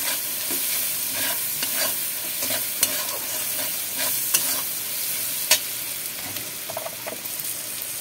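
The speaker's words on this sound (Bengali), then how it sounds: "এবার ভালো করে আবার নাড়িয়ে দিচ্ছি।" Ground cumin and coriander being stirred in hot oil in a pan for a paneer curry, a continuous bright sizzle with occasional scraping clicks of the spoon, no voices.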